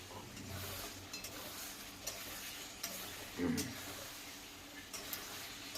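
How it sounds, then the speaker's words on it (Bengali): Chicken pieces frying in a pan for homemade chicken masala, a soft steady sizzle with occasional stirring clinks and scrapes, fairly quiet and close. "এই চিকেনের সাথে আস্তে আস্তে আমি 5 মিনিট ফ্রাই করব"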